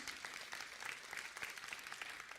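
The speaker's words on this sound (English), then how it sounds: "It deserves a big round of applause." Brief burst of audience applause, many hands clapping at once, moderately loud and fairly distant, with no voices over it.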